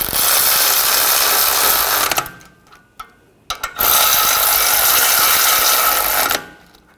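Ratchet wrench spinning on the rear brake caliper bracket bolts of a 2015-2020 Cadillac Escalade, two long runs of dense, loud clicking with a short pause and a few isolated clicks between them.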